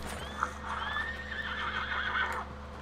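A horse in Red Dead Redemption 2 gives a long, drawn-out whinny over faint hoof clops, heard moderately close against a low steady background hum.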